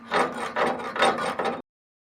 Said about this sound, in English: Good old chipping hammer.